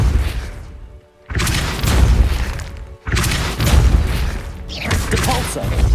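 A Depulso force spell cast in Hogwarts Legacy, loud booming blasts with crashing debris, two or three heavy impacts separated by brief near-silent gaps.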